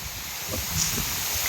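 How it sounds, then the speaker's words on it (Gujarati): Strong wind blows through an outdoor tree. A steady, rushing roar with faint leaf rustle and mild microphone buffeting fills the short moment. "જુઓ પવન હવે આ ઝાડ બતાવું તમને"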